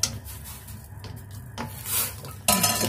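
Chicken wings being stirred in a pot of cold water for Hong Kong-style Coca-Cola chicken wings, with scraping and clinking of a utensil against the pot, irregular scrapes and knocks ending in a louder clatter.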